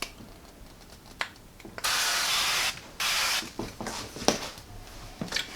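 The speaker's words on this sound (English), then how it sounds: "I'm going to spray our silicone pans with a little bit of avocado oil" Avocado oil spray hisses onto silicone donut pans in two steady bursts of about a second each, close and fairly loud, with quiet clicks and handling knocks around them.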